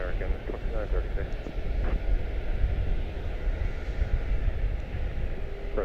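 An Airbus A321 airliner at Charlotte-Douglas airport, a continuous distant engine roar under steady talk.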